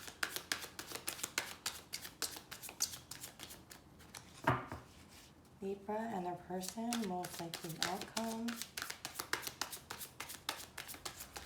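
Tarot cards being shuffled up close give a rapid, steady riffling patter that runs through most of the clip and breaks off briefly while someone speaks over it.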